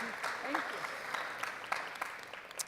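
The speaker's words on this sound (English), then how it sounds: "Can we give her a round of applause?" Round of applause from an audience at a youth human rights award town hall, steady dense clapping at moderate distance, with faint voices mixed beneath it.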